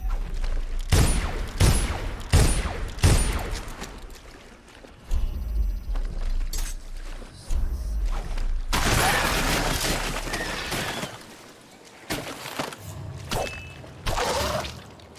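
Gunfire from the video game Dishonored in the Flooded District, heard as rapid loud shot bursts and volleys mixed with whooshes and game noise.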